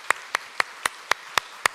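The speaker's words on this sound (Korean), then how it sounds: "우리 박수하겠습니다." A church congregation claps together in a steady, even rhythm: seven crisp, evenly spaced claps with nothing else heard.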